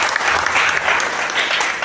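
A crowd at a public gathering bursts into brisk, dense clapping that stays loud and even for a short stretch, with no one speaking over it.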